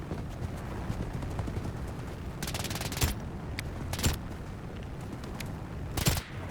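Gunfire in the video game BRM5, several sharp bursts of shots that crack out over a constant rumbling background, spaced a second or more apart.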